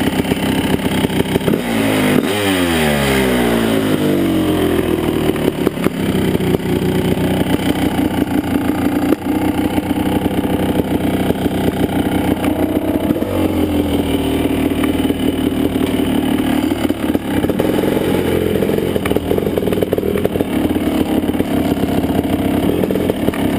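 A Kawasaki KX 500 dirt bike engine revs hard up a soft hill climb, loud and close, its pitch rising and falling through the gears in a continuous roar.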